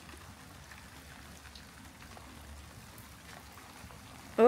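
Rain falling outdoors in the garden of an old Elizabethan house, a soft steady patter of drops close to the microphone, ending in a sudden loud knock or rustle near the camera.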